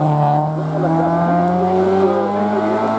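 Honda Integra race car at the Turckheim – 3 Épis hill climb, its engine holding a loud, sustained drone with a steady pitch that rises slightly midway, close by and with no break.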